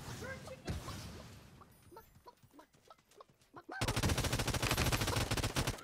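A turret in the Realm Royale video game opens up in a dense, rapid burst of automatic fire after scattered quieter game effects, loud and continuous to the end.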